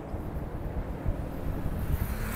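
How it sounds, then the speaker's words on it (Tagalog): Steady wind buffets the microphone outdoors on the San Juanico Bridge between Samar and Leyte, a low rumbling gusty roar with no voices. "Mahangin po rito."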